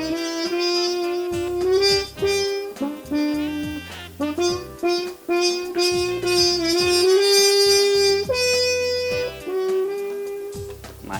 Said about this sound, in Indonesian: Ini jadinya namanya harmon mute.